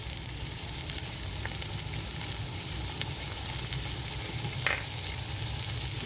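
Chicken liver fries with garlic paste in a pan, giving a steady, close sizzle with occasional stirring scrapes and small clinks, no voices.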